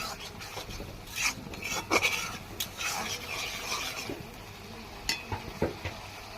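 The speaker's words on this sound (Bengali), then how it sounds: "এখন মশলাগুলো একটু কিছুক্ষণ ভালোভাবে ভেজে নেই।" Spices frying in a pan for a Bengali fish bhuna, heard as a soft continuous sizzle with scraping and stirring clicks from a spatula, fairly quiet and close with no talking.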